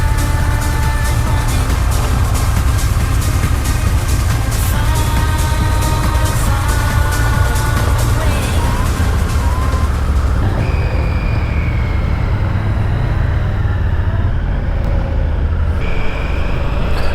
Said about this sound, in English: I'm riding a Triumph Scrambler 1200.